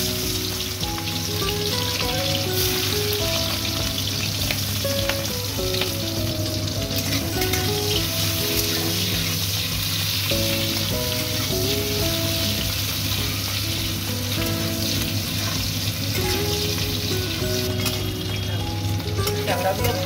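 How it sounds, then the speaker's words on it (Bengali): Crabs coated with turmeric and salt fry in hot oil in a pan, giving a loud, continuous, close-up sizzle that holds steady for the whole stretch with no voices. "সামান্য হলুদ আর নুন দিয়ে ভালো করে মাখিয়ে আমি এটা ভেজে নিচ্ছি"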